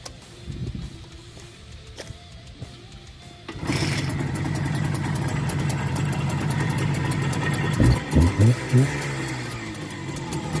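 An engine coughs to life after a carburetor is fitted, with no tuning done, then runs steadily at a loud idle with a few throttle blips near the end.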